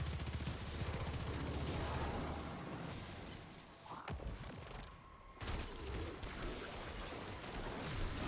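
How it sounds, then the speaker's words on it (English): Gunfire in the Destiny 2 Shattered Throne dungeon as players shoot a boss, bursts of rapid shots over a busy, noisy game soundscape, with a brief lull in the middle before the firing resumes loudly. "I was helping Austin shoot the boss."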